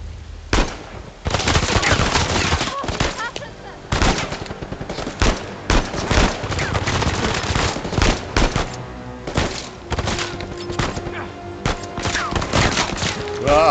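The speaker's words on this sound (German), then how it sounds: "Wir schießen uns mal frei." Rapid gunfire in the video game Uncharted 4, dense bursts of automatic shots and single cracks packed closely together, loud and continuous with brief gaps and some thuds.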